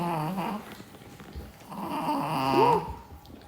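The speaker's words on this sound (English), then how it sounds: "my old man dog is trying to get comfortable" An old dog shifts about and grumbles while settling down to get comfortable, giving low, drawn-out growly moans and whimpering groans that rise and fall close by.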